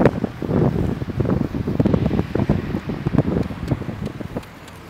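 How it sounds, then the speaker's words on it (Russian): Wind blows outdoors in Dzhankoy, Crimea in May, buffeting the microphone in loud, uneven low gusts that ease off at the end, with no voices. "Ветер."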